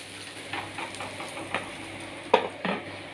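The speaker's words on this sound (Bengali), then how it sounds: "এই দেখো, প্রথমে মাছগুলোকে ভেজে নিচ্ছি সব" Fish frying in a pan gives faint, intermittent sizzling with soft stirring scrapes, a sharper crackle near the middle, over a low steady hum; no one talks.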